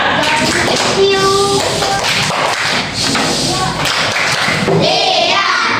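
Second-grade pupils clap in a classroom, a burst of scattered claps and thumps mixed with children's voices and chatter throughout.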